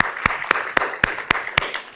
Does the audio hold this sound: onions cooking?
no